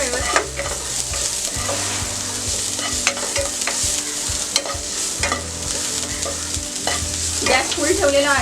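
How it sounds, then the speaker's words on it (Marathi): Garlic, ginger and spring onion whites stir-fry in oil in a pan at full heat, a loud continuous sizzle with repeated scraping and clinking of a spatula stirring close up. "लसूण, कांद्याच्या पातीचा सफेद भाग, परतून घेऊया व्यवस्थित"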